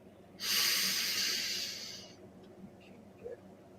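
A single deep breath taken during a guided breathing practice, a loud broad airy rush lasting about a second and a half that fades away, followed by quiet room tone.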